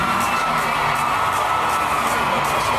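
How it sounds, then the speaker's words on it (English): Concert crowd at an outdoor hip-hop performance on Fourth Street Live in Louisville, Kentucky roaring and cheering, a loud sustained wash of voices and whoops. "And then you hear that crowd roar."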